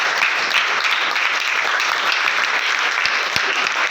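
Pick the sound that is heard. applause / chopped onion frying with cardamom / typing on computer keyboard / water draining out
applause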